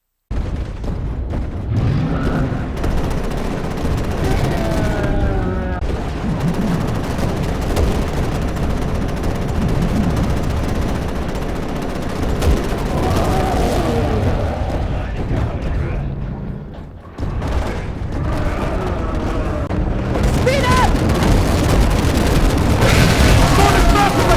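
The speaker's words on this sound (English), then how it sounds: "the next weapon I'll review is this, the gun turret" A mounted gun turret in Resident Evil 6 fires in long, loud sustained bursts with heavy booming impacts and explosions, briefly dropping before resuming, while a voice talks over the action.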